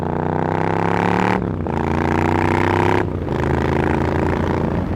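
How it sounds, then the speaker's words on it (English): A Triumph Scrambler 900 motorcycle engine revs hard and steadily while over-revving after a downshift, its harmonic whine dipping twice as the throttle eases and then climbing again, close and loud with no talk. "We're just going to let it rev."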